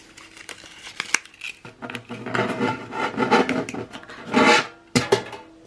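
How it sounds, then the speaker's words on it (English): Rolled-up paper banknotes are pushed into a metal tin, giving close scraping, rustling and crinkling with a few sharp clicks and knocks, louder in bursts near the end, with no talking. "it's gonna be noisy, I'm gonna put in my money"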